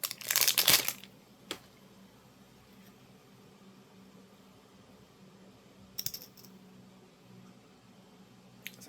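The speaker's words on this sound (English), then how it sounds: "if I took the tape off it" Tape is peeled off a small glitter lip oil bottle, a brief loud crinkling rip at the start, then quiet with a couple of faint plastic clicks and rustles.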